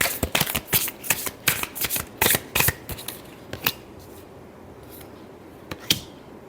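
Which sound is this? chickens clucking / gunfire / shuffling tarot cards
shuffling tarot cards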